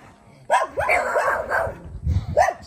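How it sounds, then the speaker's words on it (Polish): Several dogs bark and yip around a house in a Podlasie village in Poland, loud and close in repeated bursts, with a person talking over them. "Psy czekają dookoła."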